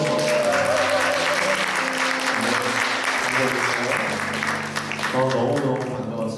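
A Korean Presbyterian church congregation claps warmly during Sunday worship, a dense, even round of applause with a faint sustained tone and some background murmuring beneath it.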